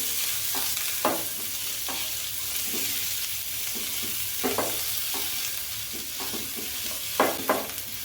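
Sliced onion frying in a pan with salt for dahi tadka, a steady hiss with several louder scraping stirs spaced through the clip, close and alone without talk.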